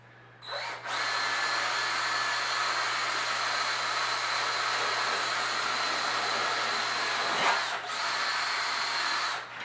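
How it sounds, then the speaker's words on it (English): A Buffy rotary tool grinds down EasyShoe Bond material on a horse's glue-on shoe, a loud continuous high whine running steadily for about nine seconds after a short start-up, then briefly dipping near the end. "Now we come in with our Buffy. What we're going to do with the Buffy is just kind of take some of this material out."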